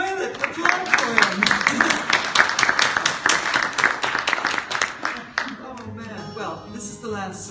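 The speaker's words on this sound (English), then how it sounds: "Applaud for him." Concert audience at a show applauds steadily and fairly loudly for several seconds, dense clapping that thins out near the end as a voice begins speaking.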